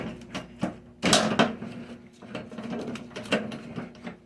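A stuck snowblower wheel being worked off its axle gives a series of irregular metallic clanks and knocks, one louder thud standing out near the start.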